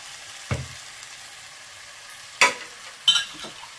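Mashed brinjal drops into a hot pan and frying resumes, with soft sizzling and a few sharp stirring scrapes spaced across a short stretch.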